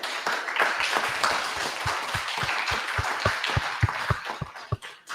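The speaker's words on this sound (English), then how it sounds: "Get a Most High hand clap." A congregation at a celebration service claps, a room full of hands with a steady rhythmic beat of about three claps per second emerging from the crowd wash, moderately loud.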